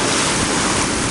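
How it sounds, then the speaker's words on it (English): Pacific Ocean waves at Kitsilano Beach in Vancouver make a steady, loud wash of surf, with wind buffeting the microphone throughout. No one speaks. "So this is Pacific Ocean."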